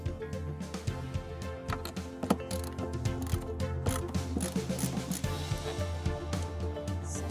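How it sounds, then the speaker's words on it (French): Screws come out of the back panel of an Intex PureSpa inflatable spa with close metallic clicks and ratcheting tool turns, steady and moderately quiet throughout. "nous allons pouvoir dévisser la partie arrière"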